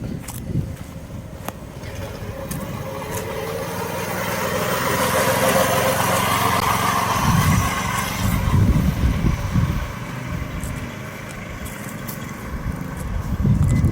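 A small single-cylinder engine swapped into a Motovox mini bike runs steadily while someone rides it, a continuous buzzing drone that rises and swells in the middle and keeps going throughout without talk.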